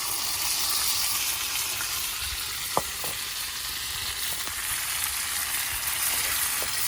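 Lentils fry in plenty of hot oil while being stirred, making a dense, continuous sizzle with soft scraping and one sharp utensil knock partway through, close by and without talk.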